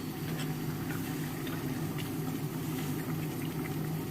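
Kongu-style mutton gravy simmers in a pot, a soft continuous bubbling and low burble, steady and faint throughout with no talk.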